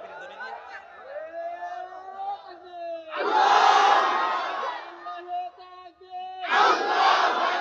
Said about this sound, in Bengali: তাকবীর ধরে দিয়া